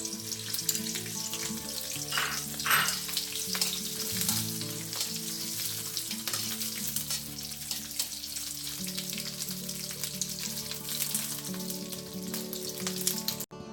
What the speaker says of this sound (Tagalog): ipiprito natin yung ating chorizo bilbao